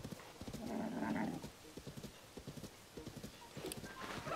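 A horse trots in the video game Zelda: Tears of the Kingdom, with a steady run of close clip-clop hoofbeats and a brief whinny-like call partway through.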